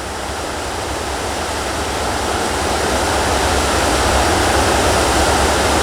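A river rushes steadily in a broad, dense wash of flowing water, loud and close, unbroken and gradually swelling, with no voices.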